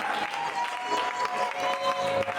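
A congregation at a night prayer vigil breaks into sustained applause and cheering, a dense wash of clapping hands and raised voices that continues steadily throughout, with some tonal sound underneath.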